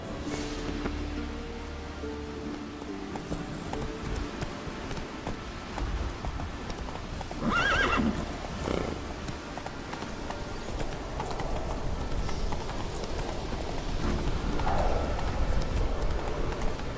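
Horse hooves clip-clop in a steady, fast rhythm as a horse gallops in The Witcher 3, along with rustling and ambient game sounds, continuous throughout at moderate loudness.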